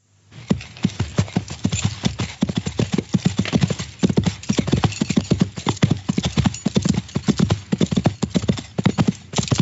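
Horse hooves clip-clop steadily in a brisk, continuous rhythm, close and loud, for a ranch scene in an audio drama. No voices are heard over it.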